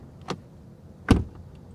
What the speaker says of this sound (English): Door open and close sound from the outside. Soft closed doors. And from the inside.